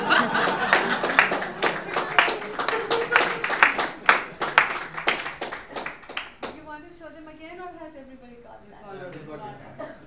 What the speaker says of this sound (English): A wide round of applause.